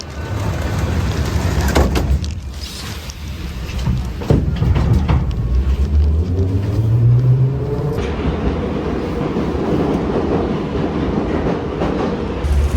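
A bus pulls up at a stop during a trip across the Balkans, its engine rumbling loud and close with a rising then falling whine and a hiss of brakes, no voices.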